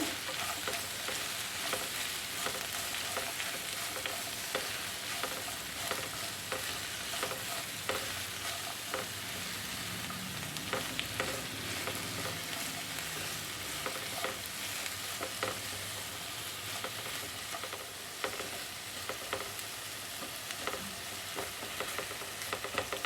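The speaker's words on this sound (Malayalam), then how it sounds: "ഇനി നന്നായിട്ടൊന്ന് ഇളക്കി കൊടുക്കാം" Okra stir-fry with a pinch of salt being stirred in a pan over medium flame, a loud, continuous frying sizzle with frequent small scrapes and clicks of the spatula, close by throughout.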